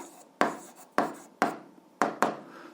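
Pen strokes on a notebook page while an answer is written, five short scratchy bursts in an irregular rhythm, close and clear with no talk over them.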